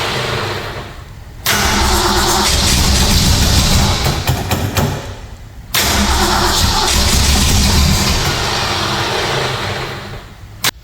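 A 1965 Shelby GT350 with a 289 Hipo engine short on fuel, cranking loudly in two long bursts of rapid starter churning that never catch, with a pause between them.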